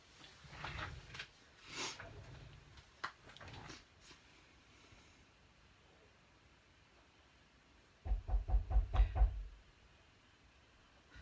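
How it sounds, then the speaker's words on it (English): Knocking at a house door heard from indoors during a relaxed card-making livestream: a quick burst of about six firm, evenly spaced raps, loud against a quiet room, with softer thumps earlier. "Excuse me one moment, my door's knocking."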